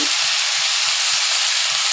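Egg and potato curry with spices fries in a pan with a steady, loud sizzle throughout, broken by soft regular stirring knocks about every third of a second.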